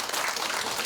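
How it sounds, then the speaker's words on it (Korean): Steady, dense applause from an audience before an organ performance, a continuous wash of clapping hands filling the short moment. "박수 한번 부탁드리겠습니다"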